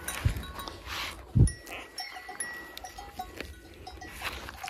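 A cow gives two short, low calls among farmyard sounds, with faint bell-like clinks and light rustling in between.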